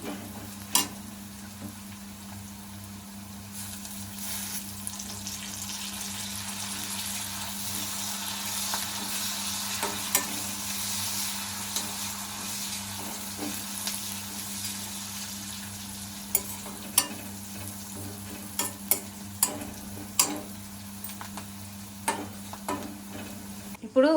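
Curry leaves sizzle and crackle in hot oil in a pan while being stirred, a steady frying hiss throughout with scattered sharp pops and spoon scrapes growing more frequent toward the end.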